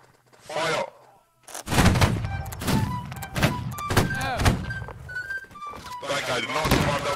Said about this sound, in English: I did not command that volley.